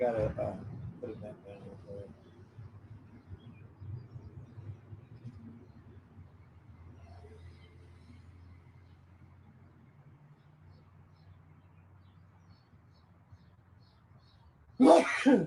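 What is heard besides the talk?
sneeze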